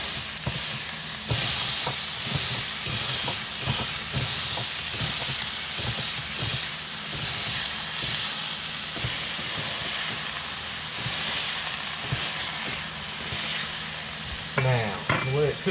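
Seasoned burger patties fry on a hot griddle, a dense, steady sizzle and hiss heard up close, with occasional spatula clicks and a brief scrape near the end.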